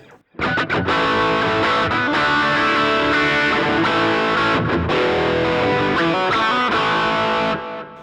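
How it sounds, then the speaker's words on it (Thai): Electric guitar through a Digitech RP500 with warm overdrive, thick gritty chords sustaining continuously and loudly for several seconds before cutting off, with no talking. "ลองฟัง Overdrive"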